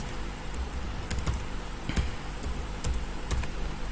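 Keystrokes on a computer keyboard as a password is typed, a handful of sharp clicks spaced irregularly at close range over a steady low hum, with no talk.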